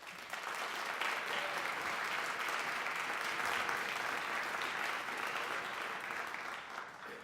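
A room full of people at a Patriots Day ceremony at Cary Hall clapping steadily for several seconds, a continuous even patter of applause that fades slightly at the end.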